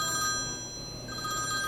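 A telephone bell rings insistently at a plastic surgery clinic in Apgujeong, sounding as a bright, metallic trill that pauses briefly and then starts again, close and clear with no talking.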